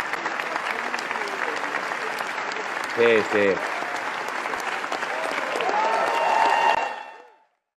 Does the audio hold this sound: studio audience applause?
yes